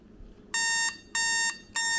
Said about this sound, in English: So now my alarm is supposed to go off at 1:49,